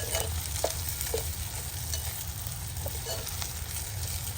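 Green chickpeas stir-frying with turmeric and salt give a steady, close sizzle, broken by a few soft scrapes of stirring and no talk.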